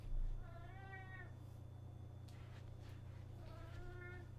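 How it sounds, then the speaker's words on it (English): A cat gives two drawn-out meows separated by a short pause, close and fairly clear over a low steady hum, with brief soft rustling between them. "You can hear the Neko meowing."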